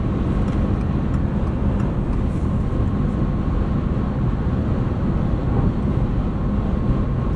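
Steady broadband wind and road noise inside a 2025 Subaru Forester Hybrid Touring cruising at 80 mph, a constant low rumble and hiss with no change across the clip and no talking.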